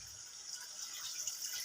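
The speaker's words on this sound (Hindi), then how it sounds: "अब हम इसमें यखनी ऐड करेंगे।" Yakhni stock, three glasses' worth, poured into browned mutton pulao in a pot, giving a steady, fairly loud liquid gush and splash that runs unbroken the whole time with no voices.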